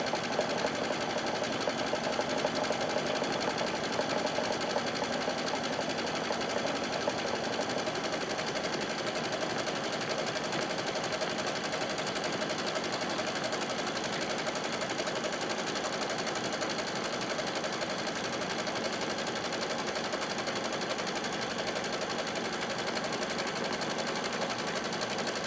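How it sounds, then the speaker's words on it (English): An embroidery machine stitches a quilted basket with foam in the hoop, giving a continuous, even mechanical whir that holds steady for the whole stretch with no talking. "it's going to stitch all the way around."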